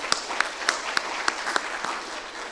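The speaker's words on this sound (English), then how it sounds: "We can applaud her again." Brief, modest applause from a conference audience at an opening session, a few distinct, sharp claps poking through a soft bed of clapping.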